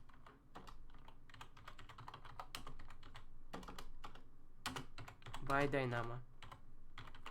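Fast computer keyboard typing clatters in dense bursts, close and clear, with a voice speaking briefly over the keystrokes toward the end.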